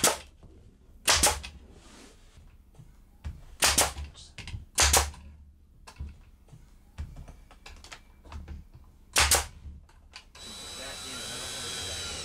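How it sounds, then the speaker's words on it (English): Pneumatic brad nailer firing into white-painted trim in an RV work-space renovation, a string of sharp snappy bursts spaced irregularly, loud and close, with a hiss of air at the end. "it's time to brad nail our trim on"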